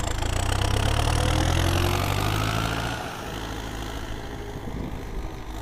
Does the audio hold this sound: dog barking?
no